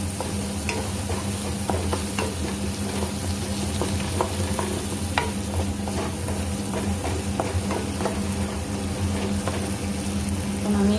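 Masala for a pabda fish curry sizzles and crackles steadily in hot oil, a dense continuous frying hiss with occasional stirring clinks, close and without talk.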